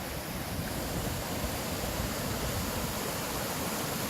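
Steady broadband rush of the McCloud River flowing along a trail, a continuous close wash of moving water with no breaks or voices.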